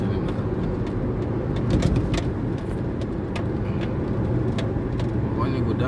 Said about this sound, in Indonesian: Truk semua nih, truk.